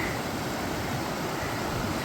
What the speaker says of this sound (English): I'm gonna stop and take a little video of the creek here.